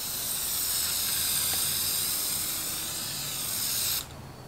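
Spray gun applying a blue coat of paint inside an ambulance, a loud continuous close-up hiss for about four seconds before it cuts off abruptly, leaving faint room noise.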